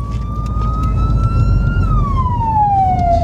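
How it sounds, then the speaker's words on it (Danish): A Falck roadside service vehicle's emergency siren wails loudly and close on a Danish motorway, a steady rising tone that then sweeps downward, over continuous road and engine rumble. "Skillevognen sendes til stedet med blink og sirene for hurtigst muligt at få fjernet genstandene fra kørebanen"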